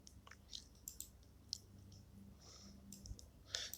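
A few light computer mouse clicks come in quick pairs, sharp and close, while someone works in Excel. No one speaks and there is a soft background hiss.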